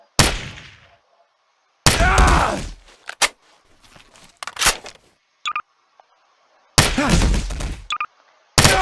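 Gunshots from a gun in Garry's Mod ring out as loud, sharp bangs with ringing tails, about five spread unevenly across the stretch, mixed with smaller clicks and thuds between them.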